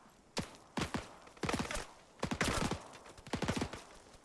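Bursts of gunfire ring out during close-quarters battle training, five or six clusters of rapid sharp cracks spaced about a second apart, moderately distant with no talking.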